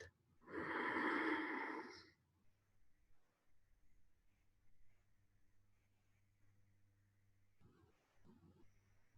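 A single deep, loud breath drawn in during a meditation session, lasting about a second and a half close to the listener, followed by quiet room hum and a few soft breathy sounds near the end.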